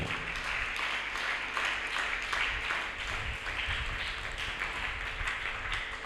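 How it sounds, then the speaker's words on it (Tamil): Steady applause from a church congregation during a special novena Mass, a dense even patter of many clapping hands that holds at a constant level throughout. "நல்லா கைத்தட்டுங்க."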